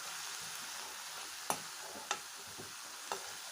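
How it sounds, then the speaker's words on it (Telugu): Coriander leaves frying in a pan for tomato-free kottimeera chutney: a constant faint hiss of sizzling oil with three or four sharp clicks of a utensil tapping the pan, no voices. "ఇప్పుడు కూడా దీన్ని బాగా మనం ఫ్రై చేసుకుందామండి కొత్తిమీర బాగా మగ్గాలి"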